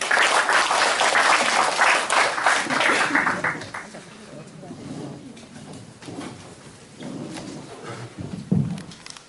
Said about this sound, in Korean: 우리 총장님을 큰 박수로 맞이주십니다.